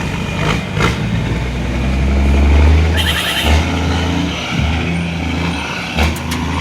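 Heavy trucks climbing a Jamaican highway, some loaded with grit, their engines roaring low and steady with a rising swell mid-way, joined by bursts of engine-brake chatter and brief hisses, close and loud with no talk.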